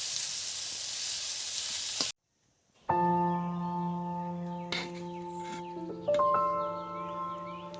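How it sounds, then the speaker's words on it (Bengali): Brinjal slices fry in hot oil for vegetarian khichuri, a loud steady sizzle that cuts off abruptly, then resumes more quietly with a faint whistling tone and occasional spitting crackles. "আর এখানটায় চলছে জমজমাটি বেগুন ভাজা।"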